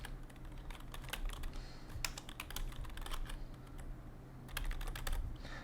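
Keys clatter steadily as a computer name is typed on a keyboard during a macOS install on a PC, a quiet close stream of clicks in bursts over a low background hum.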